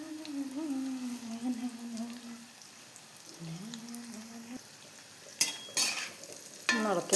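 Elephant foot yam pieces fry in hot coconut oil with a constant low crackling sizzle, a faint voice early on, then a few sharp spoon scrapes near the end.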